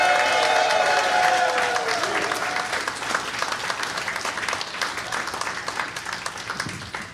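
Comedy club audience applauding during a live album recording, a dense, steady wash of clapping that starts loud and eases slightly over several seconds, with some crowd noise mixed in.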